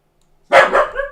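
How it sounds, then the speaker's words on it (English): Max the dog gives a single sharp, close bark that trails into a brief whining tail, set against silence. "Oh, there's Max barking"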